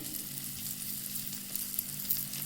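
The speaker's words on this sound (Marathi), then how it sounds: "दाळ तडका आहे हा" Dal tadka tempering sizzling in a pan, a steady soft hiss of frying oil throughout, close but fairly quiet, alone without talk.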